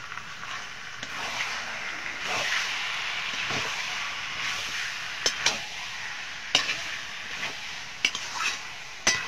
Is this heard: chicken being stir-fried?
yes